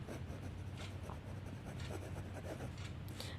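A pen or pencil writes out a sentence by hand, giving a steady, close scratching and rubbing across the whole stretch with no talking.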